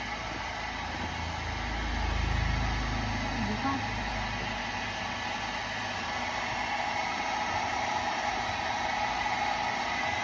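A steady, loud rushing of hot air from a heat gun, continuous and close, with a low rumble swelling briefly early on, used to remove tint from a car.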